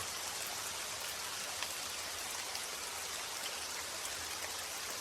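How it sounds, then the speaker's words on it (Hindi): Steady rain falls outside, a dense, even hiss of drops striking surfaces that holds constant throughout with no voices. "जब से बारिश शुरू हुई तब से मैं बाहर ही खड़ा हूँ"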